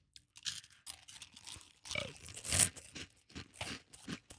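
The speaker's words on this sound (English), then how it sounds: "Let me try the U.S. Froot Loops first." Close, quiet crunching of U.S. Froot Loops cereal being chewed, a series of crisp bites and grinding mouth sounds.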